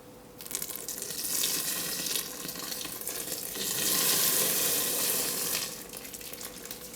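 Water pours steadily into a vanilla cake mixture in a bowl, a loud continuous splashing gush that swells midway and then tapers off.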